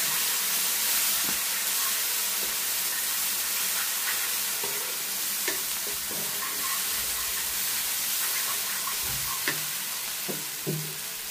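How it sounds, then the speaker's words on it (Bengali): Ground spices with chilli powder and kasuri methi being stirred and roasted in a pan of oil for a paneer curry: a steady close sizzle with scattered scraping and tapping of the spatula throughout, no voices. "একটু ভালো করে নাড়াচাড়া করে নিচ্ছি, মানে একটুখানি মশলাটা জাস্ট কষিয়ে নিচ্ছি"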